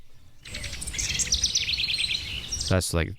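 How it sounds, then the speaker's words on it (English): Bright chirping birdsong within a music track trills steadily over a soft rumbling backdrop, with a brief voice near the end. "I guess this is playing the whole time. It's birds."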